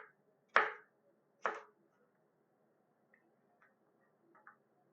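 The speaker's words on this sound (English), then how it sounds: "And slice the fries." A knife slices through zucchini into fries on a board: two sharp distinct chops close together, followed by a few much fainter taps in an otherwise quiet room.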